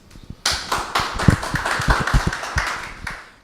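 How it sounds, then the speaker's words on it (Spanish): A few quiet taps, then a burst of applause from a seminar audience welcoming a speaker at a Peruvian aquaculture talk. The claps are distinct and uneven, moderately close, and continue for several seconds. "Damos un fuerte aplausos."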